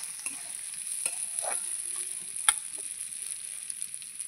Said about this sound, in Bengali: এই যে চালটা দিয়ে ভালো করে একটু নেড়ে চেড়ে